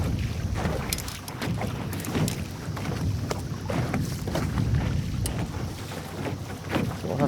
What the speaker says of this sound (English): Do have a speedboat coming here.